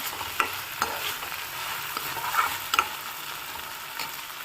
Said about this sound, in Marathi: डाळ टाकल्यास ते पण मिक्स करून घेऊ